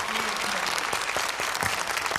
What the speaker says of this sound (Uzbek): avvalambor mana bu olqishlar sizga